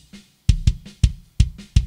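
Rock kick drum run through a vintage FET compressor with slow attack, medium-fast release and 4:1 ratio, giving about six punchy, close, hard-smacking hits with a short lead-in thump.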